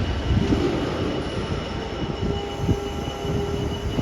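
A freight train rumbles past on a railway line in Oxford, a steady loud rolling roar of wagons with low rumble and faint wheel squeal throughout, no voices.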